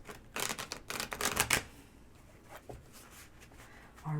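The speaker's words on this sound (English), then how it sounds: "I'm going to give it a good shuffle." Crisp riffling and flicking of tarot cards being shuffled, a quick burst of rapid flutters followed by softer scattered taps and a final shuffle near the end.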